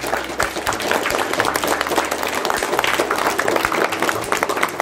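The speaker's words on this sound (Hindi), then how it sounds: "तालियां बजाएं।" An audience at a Diwali celebration event claps steadily, a dense, continuous wash of applause lasting the whole stretch at fairly close range.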